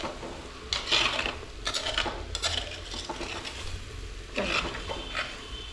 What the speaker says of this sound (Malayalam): എന്നിട്ടൊന്ന് ഇളക്കി കൊടുക്കാം